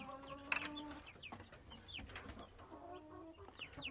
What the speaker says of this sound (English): Then we got these little chicks down here.